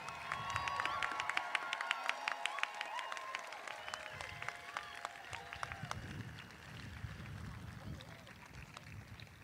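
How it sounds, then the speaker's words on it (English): A crowd applauds the graduating class at a college commencement ceremony, a dense wash of clapping that carries on for several seconds in a large space. "One more round of applause for the class of 2024."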